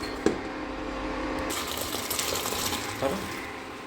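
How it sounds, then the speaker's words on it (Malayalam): Grapes dropped into a pot of boiling water for homemade grape wine, a bubbling, hissing wash of water with a couple of soft splashes and knocks, steady and close throughout. "ഇതിനി ഒരു 2 മിനിറ്റ് നേരത്തേക്ക് മുന്തിരിങ്ങ ഈ തിളച്ച വെള്ളത്തിലേക്ക് ഇട്ടേക്കാം"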